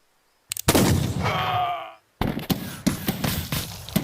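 Gunfire in a western-themed audio drama game: a sharp opening shot and a sustained whooshing, wailing swell, then after a short silence a rapid run of cracking shots and impacts, loud and close.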